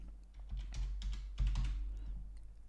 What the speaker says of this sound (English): we're going to type in this value